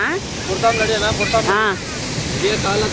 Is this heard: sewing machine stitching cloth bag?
no